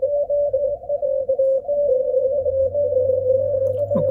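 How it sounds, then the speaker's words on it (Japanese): Steady noise and a continuous tone from an Icom IC-7300M amateur radio receiver with the preamp switched off, holding at an even level for about four seconds with a brief burst near the end. "プリアンプを切った状態で、こんな感じですけども、雑音がね、ノイズがあるんでね、少し聞こえづらいですね"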